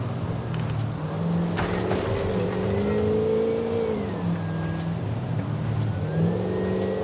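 The engine of a 1969 Dodge Charger Daytona revs loudly and steadily, its pitch rising and falling through several sweeps, with no talk over it.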